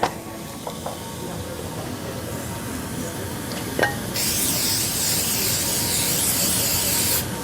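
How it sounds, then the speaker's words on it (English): Cooking spray hisses steadily onto a baking dish, starting partway through and running for a few seconds, preceded by faint clinks and handling noises. "I am going to spray this just because it's easier to clean."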